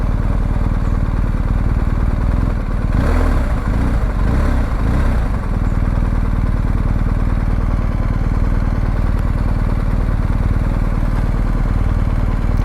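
A BMW R1250 GS Adventure motorcycle with a boxer engine drones steadily while being ridden, a loud continuous low engine hum with wind rush that stays constant throughout, briefly roughening near the middle, with no talk.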